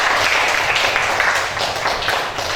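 Schoolchildren in a classroom applaud a student group during a lesson, a dense, steady patter of many hands clapping at close range for a few seconds with faint voices mixed in.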